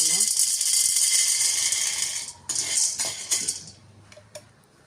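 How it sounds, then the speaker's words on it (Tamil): Chickpeas roast in a pan with a continuous, bright rattling hiss that breaks into scattered metallic clinks and scrapes, while a voice talks underneath. "சரி வறுப்போம்மா இனி க கடலை வறுப்போம்"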